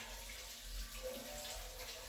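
Well water runs from a drain tap into a bathroom through a cloth filter cut from a cotton singlet, giving a steady, soft broadband rush that holds level throughout without any voices.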